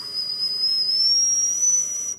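A person whistles a single steady, high pure tone that rises slightly as it holds, imitating a whistling tea kettle. The sound is loud and close, with nothing else behind it.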